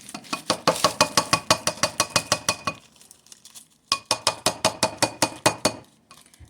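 A spoon stirring crushed ice in cold glasses, giving quick, bright, rhythmic clinks close up, a steady run of about a dozen strikes, a short pause, then another similar burst.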